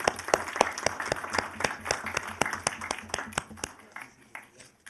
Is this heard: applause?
yes